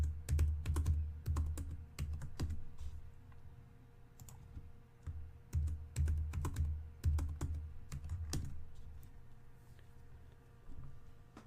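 A username and password go in on a computer keyboard during a CentOS Linux install: close, quiet bursts of keystroke clatter with short pauses between runs, no talking.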